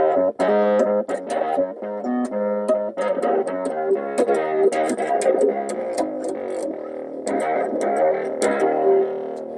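An electric bass plays a busy riff through a small overdriven mini Fender stack amp, the tone fuzzy and buzzy with sharp plucked attacks, steady and fairly loud throughout.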